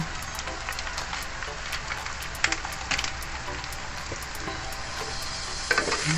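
Pork lechon sisig with mayonnaise and egg frying in a pan, a steady dense sizzle with scattered scraping and clinking as it is stirred, close and continuous with no talk.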